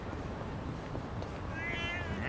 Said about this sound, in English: This cat really does kick up a fuss.